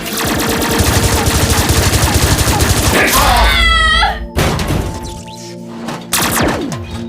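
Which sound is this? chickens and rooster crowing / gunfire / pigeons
gunfire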